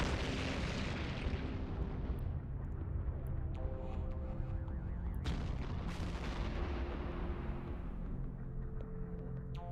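Heavy booming impacts of EM missiles striking a ship in EVE Online, a dense rumbling barrage with several sharp blasts spread across the stretch and a sustained low roar beneath.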